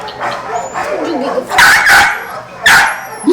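Beagles, a little female and a male, bark and yip in a few sharp bursts at close range, mixed with a person talking to them.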